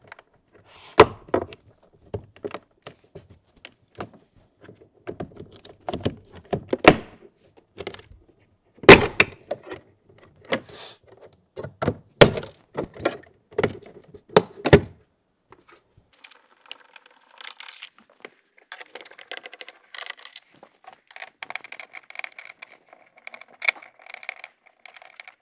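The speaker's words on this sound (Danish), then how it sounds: "Jeg begynder at skille ad." A car door panel is taken apart and its screws removed, giving sharp plastic clicks, knocks and rattles in irregular bursts up close, followed by quieter scraping and fiddling handling sounds.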